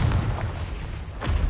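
Explosive spell blasts in the video game Hogwarts Legacy: low booming bursts near the start and again near the end, with a rumbling bed in between.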